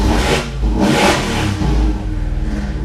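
A loud Dodge Hellcat V8 engine revs hard through its exhaust, surging and dropping in deep, rumbling pulses before settling into a choppy idle.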